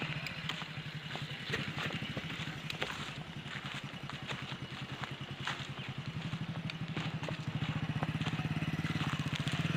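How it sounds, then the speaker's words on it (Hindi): A motorbike ridden slowly around a cut-up, broken road, its engine putting out a steady, close rumble that swells slightly louder toward the end. "अब बाइक को उस तरफ से घुमा करके ला रहे हैं"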